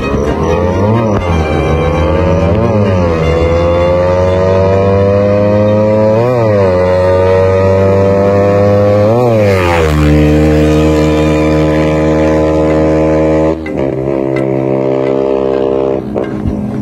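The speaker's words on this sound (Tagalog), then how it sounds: "test run na natin yung Raider guys" A Raider motorcycle with a 68mm engine kit runs a loud, close test, its engine revving up and down repeatedly in rising and falling sweeps before settling to a rough idle.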